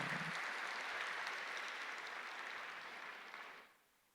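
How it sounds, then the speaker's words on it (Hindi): An audience claps at a spiritual talk, a dense steady wash of applause that holds for several seconds, then quickly fades away. "भाई बजाओ तो सही ताली जरा।"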